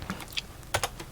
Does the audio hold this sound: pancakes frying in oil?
no